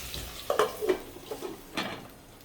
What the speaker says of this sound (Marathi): छान कोरडी एकदम मस्त खरपूस फ्राय करून घ्यायची.